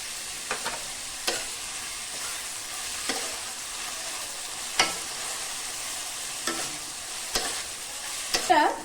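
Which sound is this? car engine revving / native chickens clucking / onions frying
onions frying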